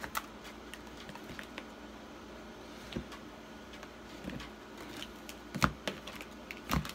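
Tarot cards are shuffled by hand, giving soft papery riffles and light taps, with a few sharper snaps near the end, quiet and close with no talking.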